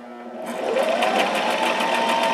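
A sewing machine stitches steadily through several layers of dress fabric, a close, continuous whirring hum that starts softly and settles into an even, unbroken run.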